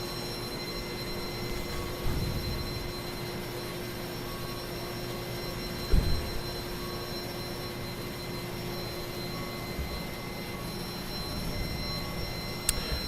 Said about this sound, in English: the noises coming from the airplane are fantastic